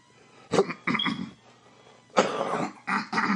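A few sharp coughs close up, a quick pair followed after a pause by a longer, harsher burst of coughing, with no talking.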